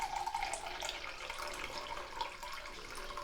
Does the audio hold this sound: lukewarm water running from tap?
yes